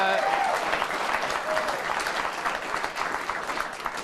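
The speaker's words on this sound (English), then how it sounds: "I think they're clapping for me, but it's okay." Steady applause from a large studio audience at a political talk show, dense and sustained throughout with a faint voice or two mixed in underneath.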